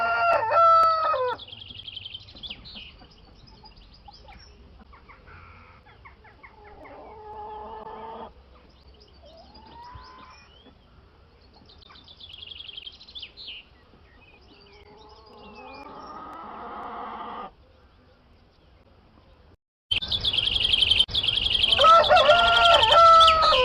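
A rooster crowing sound effect plays in several separate drawn-out, wavering calls with quiet gaps between them, then a louder burst of crowing at the end.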